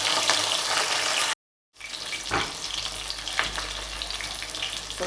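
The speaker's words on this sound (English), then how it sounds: "Now put it into the pot. Leave it right there, don't touch it. Allow it to fry." Fish fries in hot oil in a pot, a dense crackling sizzle that runs steadily, briefly cuts to silence, then resumes with scattered louder pops, close and moderately loud with no talking.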